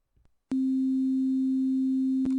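A pure sine tone sounds the note C, starting abruptly after a brief faint noise and holding perfectly steady and loud until a slight click near the end.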